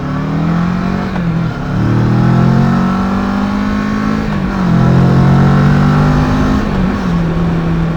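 A motorcycle engine revs up repeatedly while shifting gears, pitch climbing then dropping with several shifts, loud, close and continuous without talk.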